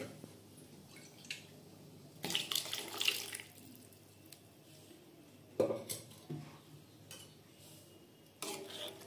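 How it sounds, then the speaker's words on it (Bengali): Water poured into a pot of chana dal (Bengali cholar dal) on the stove, coming in a few short splashing bursts separated by quieter gaps with faint kitchen clatter. "একটু জল দিয়ে দেবো।"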